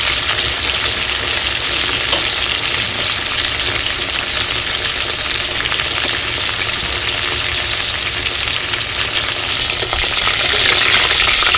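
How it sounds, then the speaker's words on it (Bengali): Chicken pieces for butter chicken sizzle steadily in a hot pan, a dense, loud hiss of frying held near and constant throughout, swelling slightly brighter toward the end, with no talk. "মাংসগুলো প্রায় 4-5 মিনিট ধরে ভাজতে হবে।"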